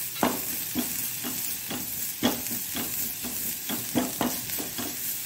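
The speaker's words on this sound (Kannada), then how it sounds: "ಈಗ ನಾವು ಮೊದಲಿಗೆ ಸ್ವಲ್ಪ ಕರಿಬೇವಿನ ಸೊಪ್ಪನ್ನು ಹಾಗೆ ಇಟ್ಕೊಂಡಿದ್ದೇನೆ ನಾನು. ಇದನ್ನು ಚೆನ್ನಾಗಿ ನಾವೀಗ ಇದರಲ್ಲಿ ಸಣ್ಣ ಉರಿಯಲ್ಲಿ ಫ್ರೈ ಮಾಡ್ಕೊಳ್ಳೋಣ." Curry leaves frying in ghee over a low flame, with a steady soft sizzle and repeated scraping stirs at irregular intervals, close up and alone without talk.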